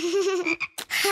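A cartoon frog gives a few close, loud, tonal croaks in quick succession, separated by short gaps, with no talking over them.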